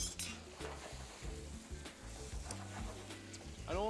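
Fish coated in chermoula fries in a pan with a soft, continuous sizzle, heard close but fairly quiet. Occasional clinks of a utensil against the pan break in as the fish is turned.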